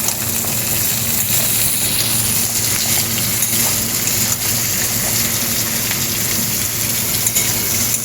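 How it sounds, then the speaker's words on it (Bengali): Moringa drumstick pods fry in a pan for a Bengali milk curry, giving a loud, continuous, even sizzle with no pauses. "দিয়ে এইবার আমি তাকে কিছুক্ষণ ভেজে নেব।"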